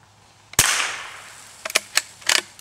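A gun fires at plaster targets: one sharp, loud shot rings out and fades, followed by a quick cluster of smaller cracks and impacts.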